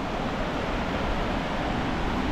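Rushing water of Johnston Canyon's falls in Banff, Alberta roars as a dense, unbroken wash of noise at close range, steady and loud throughout, with no voices over it.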